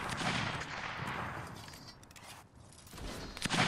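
Rifle volleys crackle in the Napoleonic Wars video game, a dense burst of overlapping musket-style shots early on, thinning out and then returning with sharper cracks near the end, moderately loud.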